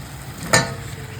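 Fried young jackfruit hits a hot pan of prawns with one brief, sharp hiss of sizzle, fading quickly into a low background crackle.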